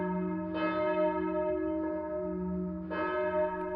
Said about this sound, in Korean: 남산 언덕 위에서는 그렇게 해방의 종소리가 울려 퍼졌습니다.